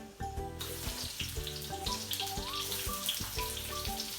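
Chopped onion hits hot oil with mustard seeds, and a steady, close sizzle and crackle spreads through the pan, with clinks of utensils against it.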